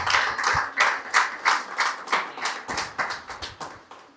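Rhythmic congregational clapping at a Spanish-language Sunday church service, a dozen or so sharp, evenly spaced claps in unison from a crowd, fairly close and steady, with no speech over it.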